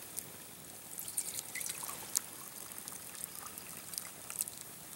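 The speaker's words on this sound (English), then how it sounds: "So I strained my water twice." Water strained through a plain screen to filter out ashes outdoors on a winter night, a faint, close trickle with small splashes and drips over a quiet background.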